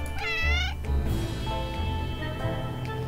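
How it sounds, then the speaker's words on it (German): A cat meows in the video game 60 Seconds, with one drawn-out wavering yowl up front, then quieter game ambience and low rumbling underneath. "Wo ist die Katze hin? Ach, da oben."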